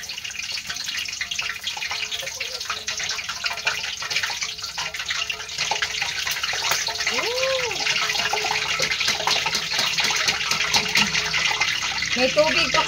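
Cooking oil with water in it, from fried fish, sizzles and crackles in a pan with a continuous hiss and sputter, while a person talks intermittently over it.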